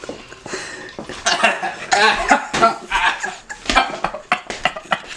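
A person coughs repeatedly in harsh, uneven bursts after eating garlic, with short gasps and a bit of clattering between fits.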